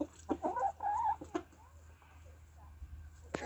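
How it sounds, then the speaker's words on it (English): Hens pecking around their greenery give a few soft, close clucks in quick bursts near the start, then a quieter stretch with faint background sounds and one last short cluck. "Chickens are happy pecking around with their greenery"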